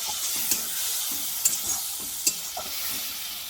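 Spiced masala paste fries in oil in a pan for an egg and soybean curry, a steady close sizzling hiss broken by several sharp scrapes of a spoon stirring it.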